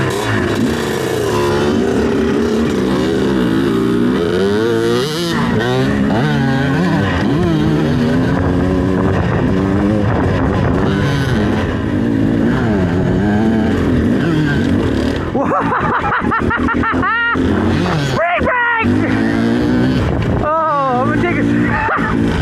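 A 2024 Beta 300RR Race Edition two-stroke dirt bike rides a trail, its engine revving and rising and falling continuously and loudly, with occasional sharp mechanical clatter near the end and people talking over it.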